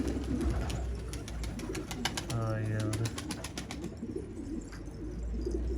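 Pigeons coo in a low, repeated purring call at close range during breeding-season selection, with a steady background hum and faint outdoor noise.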